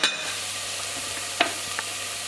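Garam masala, madras curry powder and homemade turmeric tipped into a sizzling chickpea curry pan, a brief soft hiss with a couple of light scraping stirs, quiet and close.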